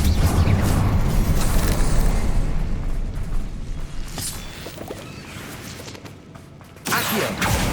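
Casting the Incendio fire spell in Hogwarts Legacy sets off a heavy, booming burst of flame. It fades over several seconds, and a second forceful blast follows near the end.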